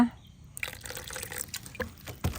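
A little water is poured into a thick rava batter, with a brief liquid splash and a few drips in the first seconds and soft clatter after, close by and with no talk.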